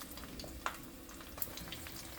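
An egg sizzles and fries in organic coconut oil in a pan, a steady crackling hiss with small pops and spatters throughout, no one talking.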